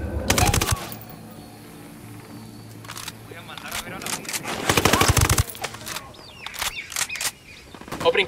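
Bursts of rapid gunfire in the tactical shooter Ghost Recon Wildlands, loud clusters of shots separated by quieter gaps with game ambience and voices between them.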